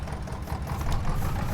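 A tractor engine idles in Farming Simulator 22, a steady low rumbling drone that stays loud and even throughout with no voices.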